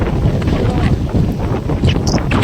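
Strong wind buffets the microphone in loud, continuous rumbling gusts outdoors, filling the whole moment with rough low roar.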